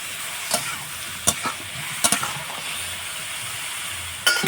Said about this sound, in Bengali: লবণ হলুদ দিয়ে সামান্য জল ছিটি দিয়ে আমি ভালো করে নেড়ে একটু ঢাকা দিয়ে দেবো